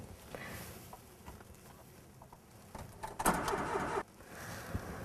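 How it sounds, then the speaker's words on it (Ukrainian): VAZ Zhiguli car being started and moved off from standstill, a low engine rumble with small mechanical clunks, then a louder burst of revving around the middle before it settles back to idle. "Зараз і я спробую зрушити з місця за кермом Жигулів з першого разу."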